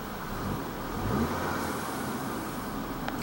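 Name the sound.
Audi car engine running on test drive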